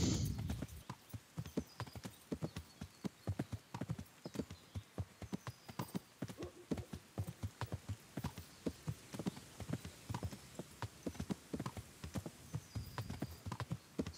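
A tiring horse in a hardcore-difficulty video game trots along at an easy pace, its hooves clip-clopping in a steady, close, repeated rhythm with no talk over it.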